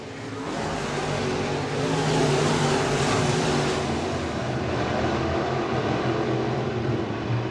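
Modified race cars lap Crawford County Speedway on the final lap, their engines a loud, steady roar that swells slightly midway and holds, with no voices over it.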